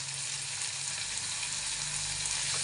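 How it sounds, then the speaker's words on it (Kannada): Onions frying with salt in a pan for a fenugreek-leaf gravy, after garlic has browned, give a steady, close, continuous sizzle throughout with no talk. "ಈರುಳ್ಳಿ ಹಾಕೋತಾ ಇದ್ದೀನಿ. ಇದು ಅಷ್ಟೇ ಫ್ರೈ ಆಗಬೇಕು."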